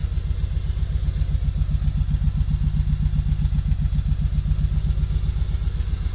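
A Kawasaki Z motorcycle engine idles steadily just after starting, a close, loud, even low-pitched pulsing throb with no voices.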